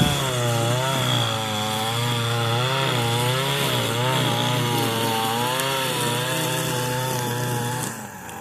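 An Echo SRM 225 gas string trimmer runs with a steady, high engine whine that rises and falls slightly in pitch, loud and continuous throughout, with a Craftsman riding lawn mower also working in the yard.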